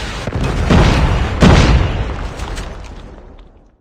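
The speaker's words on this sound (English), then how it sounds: "Predator missile inbound" A Predator missile explodes in Call of Duty Mobile with a loud booming blast and a second punchy hit about a second later, followed by a long rumbling tail that fades out over a few seconds.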